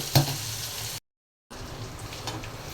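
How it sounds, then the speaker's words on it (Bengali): Onions frying for a Bangladeshi fish curry, a steady crackling sizzle with light stirring scrapes, broken by a brief half-second gap of silence midway. "তরকারি রান্নার জন্য পেঁয়াজটা ভেজে নিলাম"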